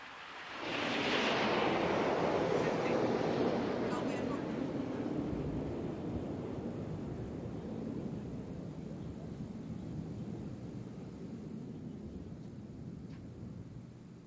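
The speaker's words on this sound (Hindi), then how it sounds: "और अब बारी है प्रशिक्षण के लिए उपयोग में लाए जाने वाले हॉक लड़ाकू विमानों की।" Hawk trainer fighter jets fly past at a naval ship commissioning ceremony, a loud broadband roar that swells quickly and then rumbles on steadily as it slowly fades over many seconds.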